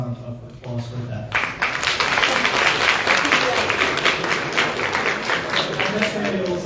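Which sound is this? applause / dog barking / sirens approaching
applause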